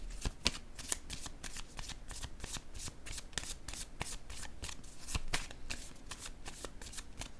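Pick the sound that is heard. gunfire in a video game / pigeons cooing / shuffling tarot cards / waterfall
shuffling tarot cards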